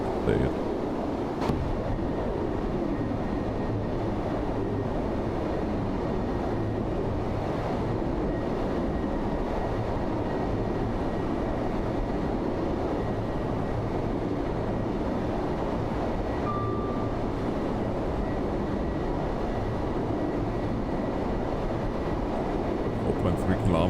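Simulated train on the Edinburgh–Glasgow line in Train Sim World 3, a steady continuous rumble of wheels and running gear, with a brief tone near the middle and a voice speaking over it at times.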